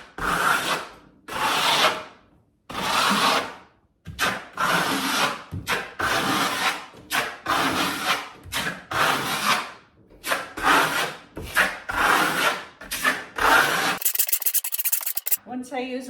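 A trowel rubbing plaster in two colours across a wall, long rasping strokes in irregular bursts with short pauses, loud and close, ending in a few quick scrapes.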